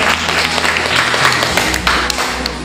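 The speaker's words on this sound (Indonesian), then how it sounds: "Tepuk tangan sekali lagi untuk kelompok saya." Students in a classroom clap for a group that has just presented, with a dense, continuous round of close applause and little speech.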